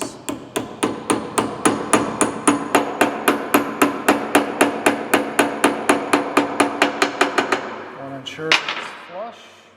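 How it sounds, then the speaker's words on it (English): A hammer taps a pin into place on a hydraulic tubing puncture tool in a steady, rapid rhythm, about thirty close, ringing blows, then stops, followed by brief handling noise. "Just tap it into place."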